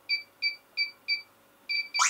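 A wireless home security alarm with door contacts sounds five evenly spaced electronic beeps, closely recorded, then a brief louder burst at the end as the alarm is cancelled.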